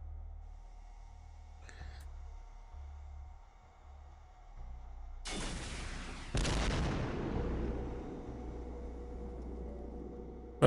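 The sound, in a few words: shotgun fire in video game X-Com Files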